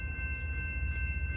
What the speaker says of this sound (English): There's a train coming, like always.